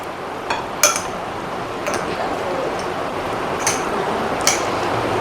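A spoon stirs mayonnaise, tomato sauce, salt, pepper and vegetables in a bowl, giving a handful of sharp, scattered clinks against the bowl over a soft, steady background.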